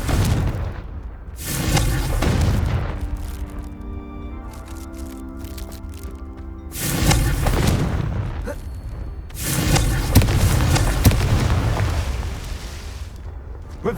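Confringo blasting spell explosions in Hogwarts Legacy, several loud booming bursts a few seconds apart, each with a rumbling tail and crackling debris, over continuous game background noise.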